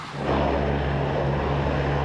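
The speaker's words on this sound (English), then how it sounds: "The plane touched down late in the afternoon." A cargo plane touching down in the afternoon gives a steady, loud engine drone with a low humming tone that swells after a brief quieter start and then holds constant.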